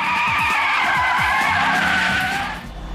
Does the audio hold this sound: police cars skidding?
yes